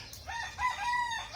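A white bantam rooster crows once, close and clear, a short shrill cock-a-doodle-doo.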